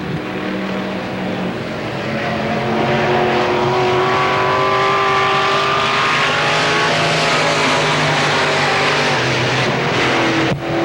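Race cars roar around the oval at Pennsylvania Motor Speedway during the 1993 Fall Classic 40, loud engine whines rising and falling in pitch as several cars pass, with a dense, continuous track din.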